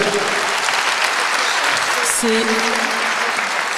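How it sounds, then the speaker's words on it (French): Audience applause at a disability awards ceremony, sustained dense clapping throughout with a presenter's voice speaking over it. "Applaudissez-la."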